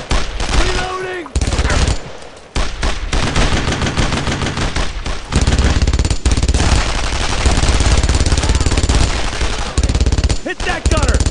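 Loud, close bursts of machine gun and rifle fire in the World War II shooter Brothers in Arms: Road to Hill 30, rapid rattling volleys with short gaps, with shouted voices over the gunfire.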